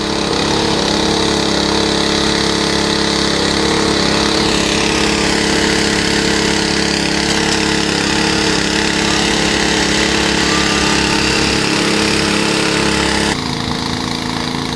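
A concrete spraying rig pumps recycled concrete mix through a nozzle to soak a bank, its engine and pump making a loud, unbroken drone that shifts slightly in tone near the end.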